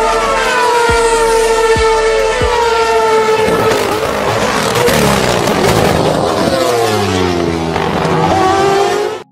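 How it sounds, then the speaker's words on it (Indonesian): A Red Bull Formula 1 car with a Renault engine corners off-throttle with its exhaust blowing. A few sharp pops open into a loud, rising and falling engine wail, with no talking. "Nah ini yang ngebuat suara mobil Red Bull pas nikung jadi beda banget."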